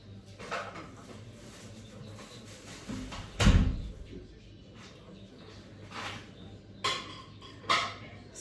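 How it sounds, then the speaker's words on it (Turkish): A door is closed indoors with a single muffled thump near the middle, surrounded by quiet room noise and a few soft knocks and rustles of handling. "Bir dakika şu kapıyı kapatayım."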